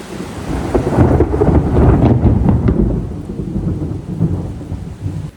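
Heavy tropical rain pours steadily just outside an open doorway in Samaná, a dense continuous hiss with low rumbling underneath, close and loud throughout.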